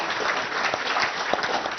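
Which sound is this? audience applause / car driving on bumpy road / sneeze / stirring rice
audience applause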